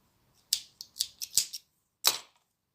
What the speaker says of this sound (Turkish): Burada bu ipi de kesiyorum.